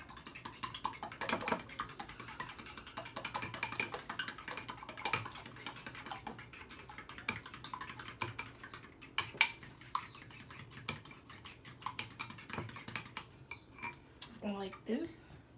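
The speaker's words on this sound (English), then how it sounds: "next, you want to whisk the eggs until it is a milky," A whisk clatters rapidly against the sides of a bowl while beating eggs, producing quick irregular metallic clicks and taps that continue close and fairly quiet throughout, with a faint voice near the end.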